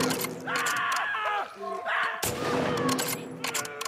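Gunfire bursts from the video game The Last of Us Part II, several quick shots in close succession mixed with game effects, with a player's voice talking over them.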